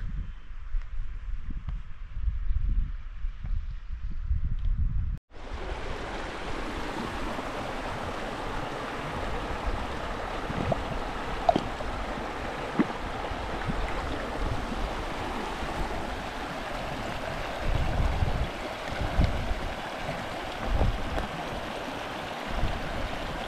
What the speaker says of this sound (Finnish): Ja taas vesi solisee siellä.